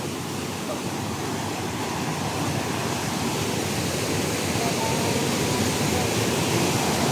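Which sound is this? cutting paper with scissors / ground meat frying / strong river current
strong river current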